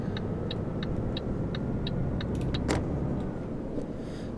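A heavy truck in Euro Truck Simulator 2 pulls away in fourth gear, giving a low, steady engine rumble throughout, with a row of light regular ticking clicks laid over it.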